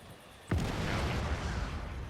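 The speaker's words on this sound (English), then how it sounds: "It's going to be a big explosion around." A sudden deep blast erupts in the video game Just Cause 3, then a sustained rumbling roar with crackling debris that carries on loudly without fading.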